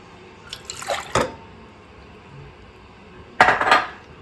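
Aquafaba pours in two short bursts, splashing and trickling into a metal pan, separated by a quiet pause.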